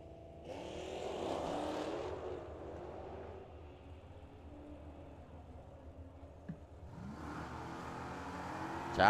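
Drag racing cars, a Camaro and a Dodge, blast down the raceway, engines swelling then fading into the distance before another loud engine surge returns near the end.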